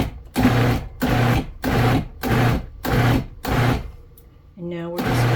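A food processor pulsing pumpkin, six loud, close, evenly spaced motor bursts of about half a second each, a brief pause with a faint tonal hum, then another burst starting.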